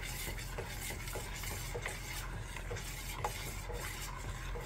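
A milk mixture stirred in a pot while cooking a homemade hotel-style breakfast, with steady scraping and rubbing of a spoon against metal and faint clinks, continuous and fairly quiet with no voices.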